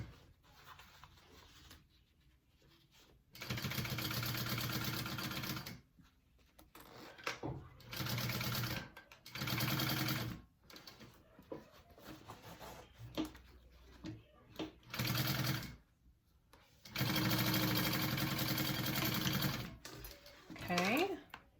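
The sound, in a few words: sewing machine stitching a zipper onto a bag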